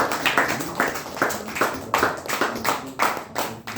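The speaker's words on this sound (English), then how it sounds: "Let's all give a good round of applause to the team who did a fabulous activity" A small meeting group gives a round of applause for a team, clearly separate claps in a loose, uneven rhythm, close and moderately loud, lasting nearly four seconds.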